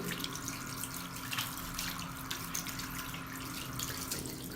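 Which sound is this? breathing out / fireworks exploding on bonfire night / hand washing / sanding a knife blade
hand washing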